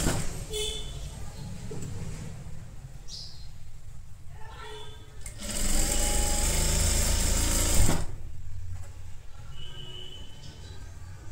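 A sewing machine runs in bursts while stitching kids' palazzo pants, a steady mechanical whir that speeds up and stops, with quiet speech in the background.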